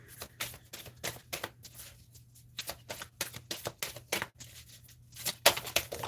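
Work Your Light oracle cards are shuffled by hand: quick, crisp riffling slaps and flutters in uneven bursts, close and fairly quiet, over a low steady hum.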